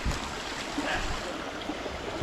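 Floodwater flows in a small creek, a continuous close rushing and trickling of water with no talking.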